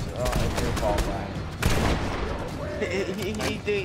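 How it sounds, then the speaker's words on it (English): Gunfire in the video game Fortnite, rapid bursts of shots crackling over continuous excited talking from players, loud and dense throughout with one sharper blast midway. "Pal, I'm getting shot!"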